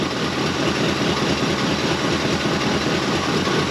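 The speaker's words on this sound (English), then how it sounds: "Still got a little bit of an exhaust leak on the passenger side." A steady, loud Chevelle engine idles with a constant low rumble and a slightly raspy, puffing note from an exhaust leak on the passenger side, with no voices.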